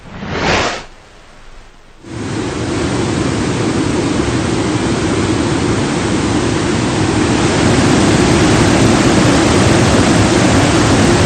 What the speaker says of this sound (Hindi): डैम से इजाफी पानी के अखराज के लिए स्पिलवेज